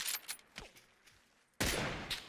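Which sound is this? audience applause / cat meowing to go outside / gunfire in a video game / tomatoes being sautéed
gunfire in a video game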